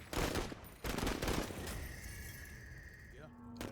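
Gunfire aimed at bugs in the MENACE video game, a rapid volley of sharp shots with a glassy shattering crack, loud and close, then a ringing electronic tone as the burst dies away.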